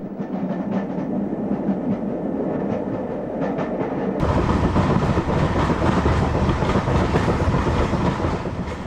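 A steam branch train in Scotland rumbles steadily along the rails with rhythmic clickety-clack, growing louder and fuller partway through.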